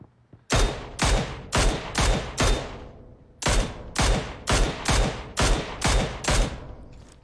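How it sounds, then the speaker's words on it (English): Shotgun blasts in a video game, about a dozen loud booming shots in two rapid volleys separated by a short pause, each with a sharp crack and fading tail, no talk. "Shotgun."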